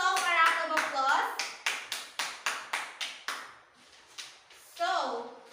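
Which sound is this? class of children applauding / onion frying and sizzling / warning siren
class of children applauding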